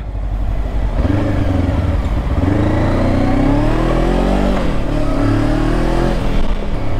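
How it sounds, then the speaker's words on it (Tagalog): A Voge 525DSX motorcycle engine runs while riding, a loud, close mid-pitched drone whose pitch climbs and dips with throttle changes, steady throughout with no voices. "Kita nyo naman takbuhan ng motor na to, di ba?"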